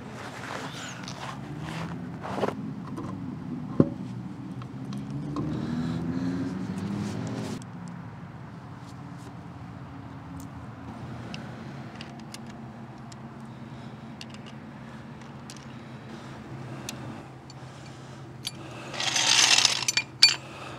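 A wheel is worked back onto the hub of a neglected boat trailer for a 16-foot Polar Kraft jon boat, heard as scattered metallic clanks, knocks and shuffling footsteps, with a burst of rattling near the end.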